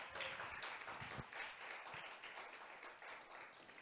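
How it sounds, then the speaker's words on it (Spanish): A church congregation claps and applauds, a faint, steady wash of many hands from across the room. "Denle un aplauso al Espíritu Santo."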